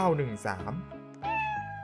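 A cat in an escape room video game meows twice, a drawn-out tonal cry followed by a shorter one, close and clear.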